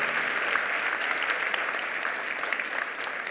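A church congregation applauds youth heading out on a spring break mission trip, steady dense clapping filling the room from start to finish at an even, moderate loudness.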